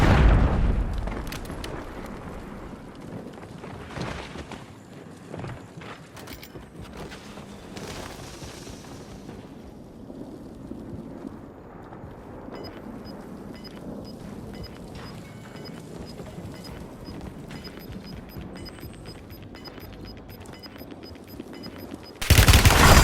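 Battle sounds from a Warzone match on Rebirth Island, with a grenade blast and bursts of gunfire over a continuous noisy background and a loud burst at the very end.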